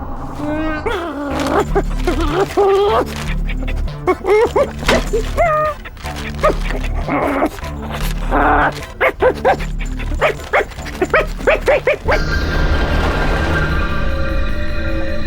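A dog barks, yips and whimpers in repeated bursts, loud and close, with people talking over it in an animated cartoon scene before a noisier sound takes over at the end.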